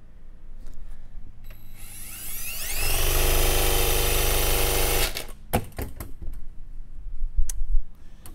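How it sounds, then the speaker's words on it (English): An electric drill spins up a heavy tire wheel, its whine rising to a loud sustained run for about two seconds, then cutting off abruptly as the brake stops it, followed by clunks and rattles. "because the drill has a break when you release the trigger, the drill stops immediately"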